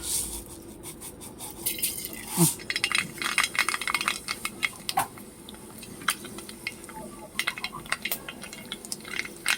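Mustard seeds pop and spatter in hot oil in a home kitchen, giving a dense, continuous crackle of small sharp pops at close range, with occasional utensil clinks.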